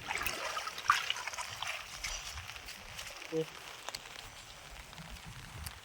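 Rain runs over a flooded paddy field, giving a faint, steady trickling and splashing wash of water that continues throughout, with a few soft drips and nearby splashes.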